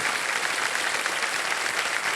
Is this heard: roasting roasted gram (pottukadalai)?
no